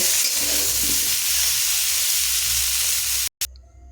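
Cauliflower and potato pieces shallow-frying in oil, a steady broadband sizzle and hiss lasting several seconds, close and continuous, cut off by a brief silence near the end before resuming more quietly.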